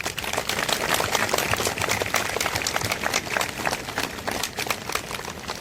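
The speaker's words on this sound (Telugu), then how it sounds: "first please clap for your self" A group of yoga participants at a morning session in Sirisilla clapping for themselves, a dense, steady patter of many hands sustained throughout, with no speech over it.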